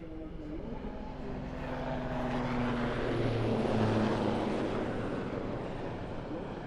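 A Swiss Air Force Super Puma AS332M1 helicopter at an airshow, its engine and rotor making a steady broad roar that swells toward the middle and eases slightly, with a low droning tone underneath, heard at moderate distance throughout.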